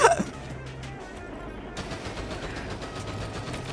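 Video game gunfire from the player's gun in Pepper Grinder opens with a sharp burst, then settles into a quick run of lighter, rapid shots over low background game sounds.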